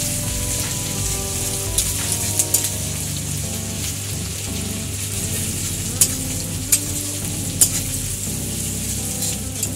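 Chopped ginger crackling in hot oil, a loud steady frying hiss with scattered sharp pops and spits, close up and uninterrupted.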